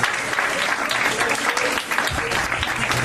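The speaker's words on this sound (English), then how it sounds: "Got a round of applause for Greg." An audience at a poker tournament final table in Bolton gives a round of applause, brisk scattered clapping from a small crowd, close and continuous for a few seconds.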